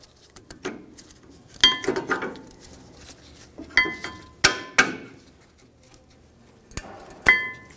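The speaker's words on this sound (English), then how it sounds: "Remove the brake pads." Rear brake pads are pulled from the caliper of a 2015-2020 Ford F-150, with a string of sharp metallic clinks and clanks, some ringing briefly, separated by quieter gaps and soft handling noise.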